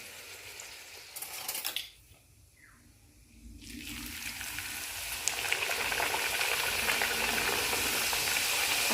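Luchi fries in hot oil with a steady, close sizzle and hiss that drops away briefly near the start and then builds back to a full, continuous bubbling.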